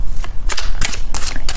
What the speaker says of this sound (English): I am shuffling the cards